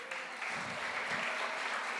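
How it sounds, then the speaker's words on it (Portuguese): A church congregation applauds during an evening service, a steady dense clapping that holds at an even level throughout, close and continuous with no talk over it. "Aplausos ao Senhor."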